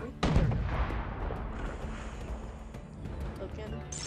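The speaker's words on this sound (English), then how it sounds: "Fire cannon." A ship's cannon fires in the Sail VR game with a sudden loud blast, followed by a long booming, rumbling tail over wind-like noise and faint background sound.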